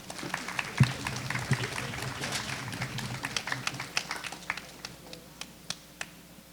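Scattered clapping from the audience at a school board meeting after an award presentation, light, uneven claps that thin out toward the end, heard from a distance in a large room.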